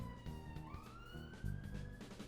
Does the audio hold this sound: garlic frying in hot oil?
no